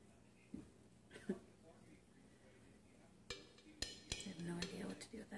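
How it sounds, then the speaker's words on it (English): A spoon scrapes and clinks against a pot of thick hot process soap, giving faint, close scraping strokes and a few sharp metallic taps, quiet and intermittent. "I'm going to scrape my spoon off here"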